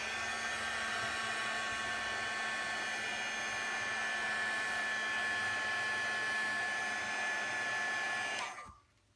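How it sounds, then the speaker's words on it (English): A heat gun blowing onto watercolour paint to dry it, a steady loud whirring roar held for several seconds before cutting off abruptly at the end. "So I'm going to just zap it with the heat gun real quickly."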